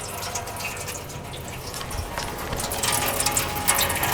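Blue coolant draining from the radiator of a 1998-2002 Honda Accord V6, a steady close splashing trickle that grows slightly louder toward the end, heard alone.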